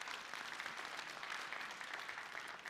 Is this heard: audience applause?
yes